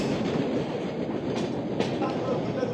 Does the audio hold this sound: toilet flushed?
no